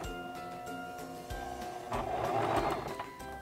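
A Singer Promise II 1512 sewing machine runs a few stitches with the presser foot lowered, a steady mechanical whir that rises and grows louder toward the end, heard alone without talk.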